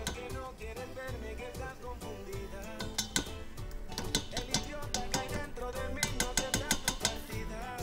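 Blended tomato for chicken in tomato cream is strained through a sieve, giving repeated clinks and scrapes of metal utensils against a bowl and pan, close and moderately loud with a busy rhythmic patter and no talk.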